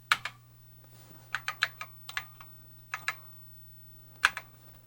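Keys clatter on a TRS-80 Model I computer keyboard, a vintage machine under repair: irregular bursts of crisp clicks, some single and some in quick runs, close up over a steady low electrical hum.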